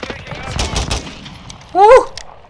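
Gunfire in Call of Duty: Modern Warfare II, a run of sharp in-game shots under low background noise, closing with a louder burst near the end.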